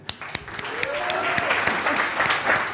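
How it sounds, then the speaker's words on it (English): An audience at a startup demo day bursts into applause, a dense wash of clapping that builds and holds steady for a few seconds, with sharp individual claps near the start. "let's give a big round of applause to Start-Up Chile."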